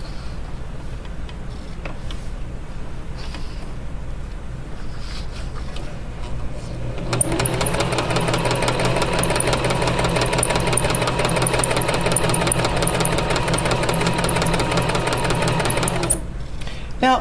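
A sewing machine set to a short stitch length runs steadily through paper for about nine seconds. Quiet room sound comes before it, and the motor stops abruptly at the end.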